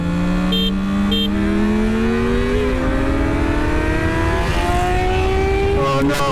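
A little 300 car accelerating hard, the engine note climbing steadily and loudly, close and alone, with a brief break near the end as it shifts into second gear.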